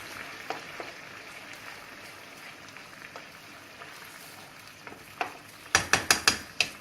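Rice pilaf being stirred in a pot with the heat turned low: faint scraping and soft grainy movement at first, then a quick burst of several louder clanks of a spoon against the pot near the end, with no voices.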